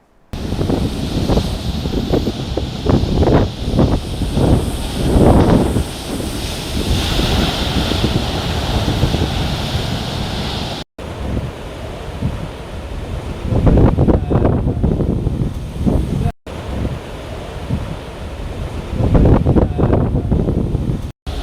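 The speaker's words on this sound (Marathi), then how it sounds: "रत्नागिरीतील भगवती बंदर परिसरात उंच लाटा उसळताना पाहायला मिळाल्या" High tide waves surge and crash at Bhagwati port, Ratnagiri, as the sea churns during heavy monsoon rain. The loud roar comes with strong wind buffeting the microphone and is cut into several short segments.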